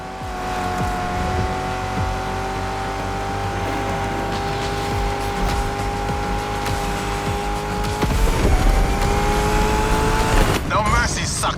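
Muscle car engine roaring in a race in The Crew Motorfest, a steady loud drone with tire noise throughout, swelling with a harsher burst and shifting pitch near the end, music and a voice faintly underneath.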